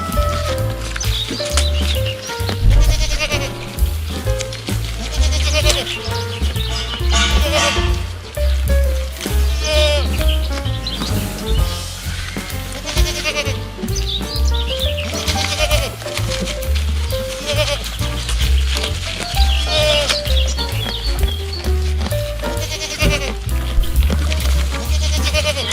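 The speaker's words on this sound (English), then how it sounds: "Goat." A goat bleats in repeated, wavering calls over a steady rhythmic musical background, loud and close.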